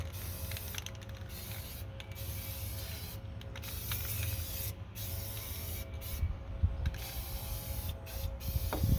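Aerosol can spraying gloss black paint onto trailer axle hub parts, repeated short hissing bursts with brief pauses between, fairly close and moderately quiet.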